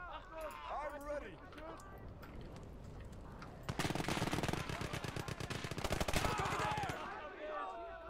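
Machine gun fire in the World War II video game Gates of Hell, a loud, rapid sustained burst breaking in midway and rattling for about three seconds, with voices talking before and after it.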